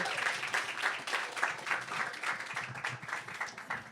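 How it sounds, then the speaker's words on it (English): A live audience claps for an arts-and-sports panel at an Artscape event, with dense, steady applause and a few cheers sustained throughout. "Can we clap it up for this amazing panel, these talented people?"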